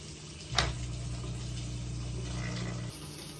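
Hot water pouring into an ultrasonic cleaner holding a Seiko watch: a short splash onset followed by a steady filling hum that stops abruptly near the end, close and moderately loud.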